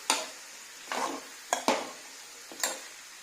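Green chillies frying in a pan for ridge gourd chutney: a soft continuous sizzle punctuated by four or five quick stirring scrapes, each a short bright rasp, heard close with no voices.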